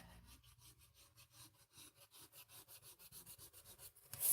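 An eraser rubs out pencil marks on paper for a pop-up wedding bouquet card, making a fast, steady back-and-forth scrubbing rhythm that is close and fairly quiet.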